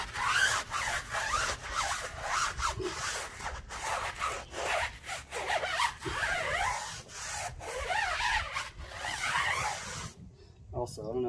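Brush scrubbing car tires coated with Adam's wheel and tire cleaner: a run of rough, rhythmic rubbing strokes close by, repeating steadily for about ten seconds before stopping.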